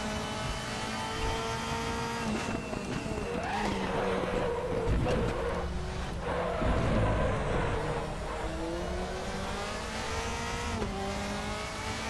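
A Mercedes-AMG race car in RaceRoom at Zandvoort, its engine droning steadily with rising and falling revs through gear changes, close and continuous, with faint tire scrubbing as the car is wrestled through corners.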